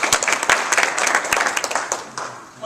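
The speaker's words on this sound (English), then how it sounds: "So please give yourself a round of applause" Applause at a community event hosted for Iowa House District 93 candidates, a modest crowd clapping with distinct individual claps for under three seconds, thinning toward the end.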